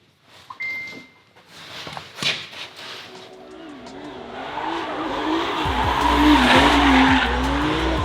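Tuned Mercedes-AMG GT with an OM648 turbodiesel swap, building from quiet idle into a loud, rising drive with a sustained wavering tire squeal and rough low engine rumble in the final seconds.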